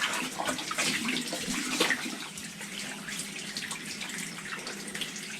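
Running water splashes steadily, close by, with irregular sloshes and drips as something is rinsed during wet shaving; no voices.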